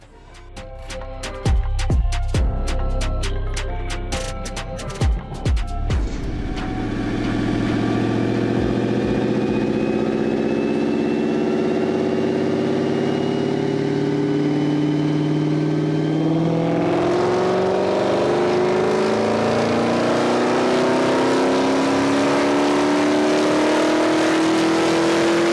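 Dodge Challenger Hellcat Last Call Jailbreak Edition on a dyno: a few sharp blips and pops, then a loud sustained pull with engine pitch climbing steadily, close and alone throughout.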